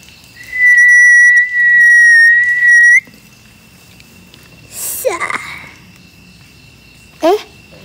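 A person whistles a steady, shrill held note in two long blasts, close and loud, followed by faint breathy sounds and short sliding whistle-like squeaks.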